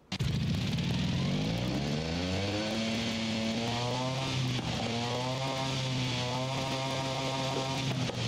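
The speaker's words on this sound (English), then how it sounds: "let's first hear the original engine." The tiny Peel P50 car engine in Forza Horizon 5 drones and revs up and down in pitch repeatedly, buzzy and close, with no voices over it.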